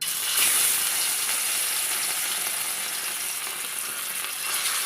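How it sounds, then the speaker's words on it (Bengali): Fish fries in hot oil in a pan, a dense, even sizzling hiss that holds steady and close throughout, with no talking. "এবারে মাছলা ভেজে নেব।"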